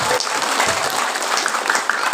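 An audience at a Maulid Nabi religious gathering claps steadily for a couple of seconds, dense, close applause with a few scattered voices underneath.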